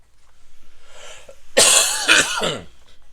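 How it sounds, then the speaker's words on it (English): A single harsh cough bursts out close to the microphone, followed by a short raspy throat-clearing sound, after a moment of soft breathing. "I'm going to cough."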